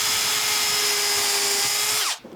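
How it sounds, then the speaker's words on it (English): A power drill bores locating pin holes into a wooden guitar fretboard blank, a steady high whine with a sustained motor tone running loud and close for about two seconds before spinning down and stopping. "Drill some locating pins."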